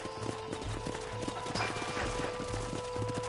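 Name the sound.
horses' hooves clip-clopping in a cowboy video game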